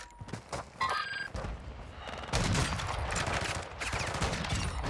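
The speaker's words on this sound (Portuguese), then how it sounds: "O som do tiro não ficou muito alto." Gunfire in the video game Warzone 2: bursts of rapid shots, the first quieter, then a loud sustained volley from about halfway on, with no talking.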